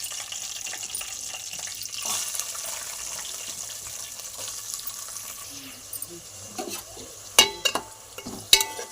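Onions, chana dal, garlic, curry leaves and cumin frying in oil give a soft steady sizzle, while a spoon stirs and scrapes the pan, the stirring growing into sharp clatters toward the end; no one speaks.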